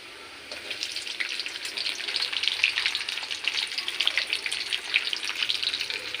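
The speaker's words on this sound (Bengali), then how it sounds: "এবার আমি দিয়ে দেবো পেঁয়াজ কুচি," Chopped onion, garlic and chilli sizzle in hot oil in a pan, a steady crackling fry with occasional stirring, close and alone without speech.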